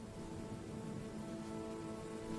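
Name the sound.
heavy rain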